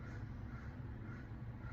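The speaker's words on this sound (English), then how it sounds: "I don't know if you can hear him, but the crows are going off." Crows cawing outdoors, a faint, distant chorus of harsh calls buried in steady background hiss.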